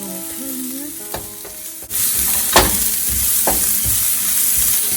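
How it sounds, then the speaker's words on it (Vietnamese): Ginger, onion and garlic stir-fried in a pan for a tofu and mushroom dish, a steady loud sizzle with a few sharp spatula scrapes and knocks against the pan. "hành và tỏi vào, mình xào lên đều"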